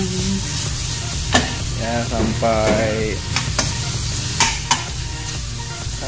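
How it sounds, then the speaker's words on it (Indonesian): Onions sautéing in a pan give a constant close sizzle broken by several sharp clicks of a utensil, with a short stretch of a voice speaking briefly in the middle. "Kita tumis sampai bawangnya harum"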